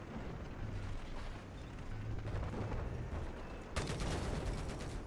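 Dense, rapid gunfire in a Battlefield video game match with a tank nearby. The rattle is fairly faint and continuous, then a sharper, louder burst of shots comes near the end.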